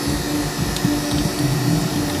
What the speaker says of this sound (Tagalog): Sabay off ng ating vacuum pump.